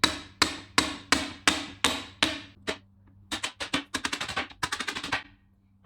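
A young child taps pegs on a Plantoys wooden tap-tap toy with a wooden hammer: sharp hollow knocks, first evenly spaced, then a quicker irregular flurry, close and alone.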